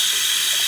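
Tap water runs in a steady, close hiss as a toy droid from a Star Wars Disney Parks Droid Factory play set is held under the stream.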